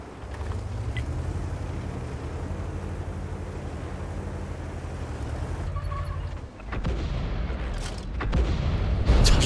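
Artillery shells land in a large Nebelburg battle in World of Tanks, heard as a steady rumbling roar that drops out abruptly, followed by distant booms and crackling impacts rising toward the end.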